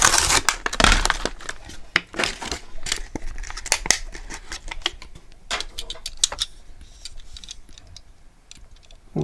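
A Motor World diecast model car's card-backed package being opened, close crinkling, tearing and plastic clicking in quick irregular bursts that thin out toward the end.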